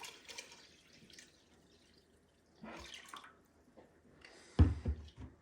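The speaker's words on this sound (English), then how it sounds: "Just cold water right from the tap until it's kind of covered." Cold water runs from a kitchen tap into a container of bacon brine in faint, intermittent splashing bursts, with a louder close splash near the end.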